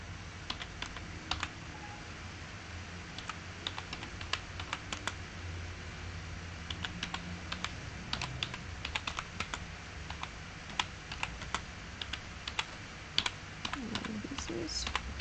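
Keys clack on a computer keyboard in steady bursts while a website title is entered in Google Sites, the crisp clicks sitting over a low background hum throughout.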